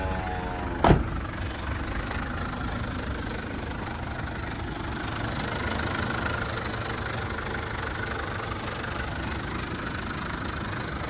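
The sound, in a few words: Mitsubishi Delica Space Gear diesel engine starting and idling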